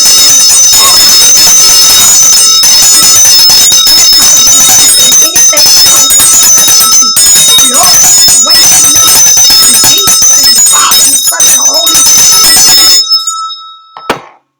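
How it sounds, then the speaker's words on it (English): A bell rings continuously and loudly, its bright metallic tones shimmering and overlapping, then it stops and a single clear chime lingers briefly. "And I ring the bell"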